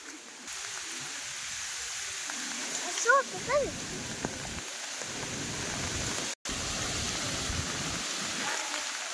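Steady broadband hiss of heavy rain pouring down during a storm, constant and fairly loud, with a few brief chirping sounds and a momentary dropout partway through.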